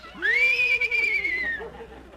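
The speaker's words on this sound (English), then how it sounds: "a horse" A single whinnying horse neigh, a rising then falling pitched cry lasting about a second and a half, performed as a sound effect in an old radio comedy about a farm; loud and close, alone without talk.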